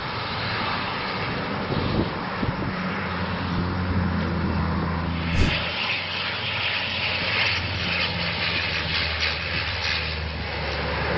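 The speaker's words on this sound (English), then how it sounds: "This firefighting plane is working on extinguishing a forest fire in Croatia, executing impressive maneuvers at extremely low altitudes." A firefighting plane flies low over a forest fire in Croatia, its engine a loud, sustained drone that swells as it passes close overhead and carries on steadily throughout.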